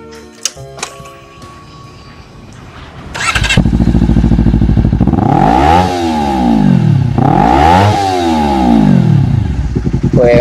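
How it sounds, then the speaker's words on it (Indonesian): A Honda CBR250RR two-cylinder motorcycle fitted with a Pro Speed exhaust starts up after a few clicks, settles into a loud close idle, then revs sharply twice in rising and falling sweeps with no talk. "gimana suara CBR 250RR yang 2 silinder ini setelah dipasang dengan knalpot Pro Speed? Seperti ini suaranya"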